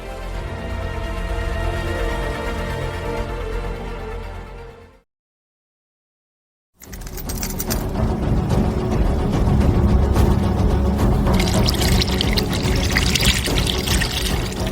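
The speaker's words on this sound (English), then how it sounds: "a massive pile of countless coins was pouring out" A massive pile of countless coins pours out of a truck as a loud, continuous rushing cascade, broken by a brief silent gap before it surges back even fuller with dense metallic clatter.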